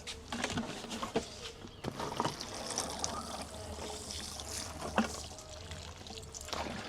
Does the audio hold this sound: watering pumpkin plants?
yes